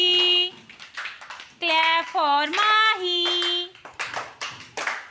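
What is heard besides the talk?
children clapping for a classmate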